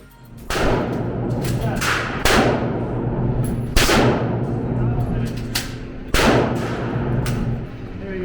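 Gunshots at an indoor shooting range in Warsaw, Poland: five or six loud, sharp reports spaced a second or two apart, each with a booming echo, over constant room noise.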